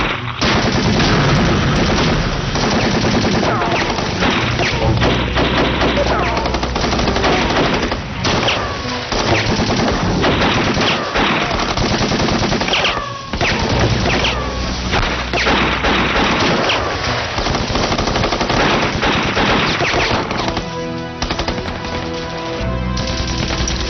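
Sustained machine gun fire in a war drama battle, dense bursts of rapid shots with booming blasts, loud and continuous with barely a pause throughout.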